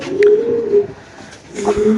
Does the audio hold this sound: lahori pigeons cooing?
yes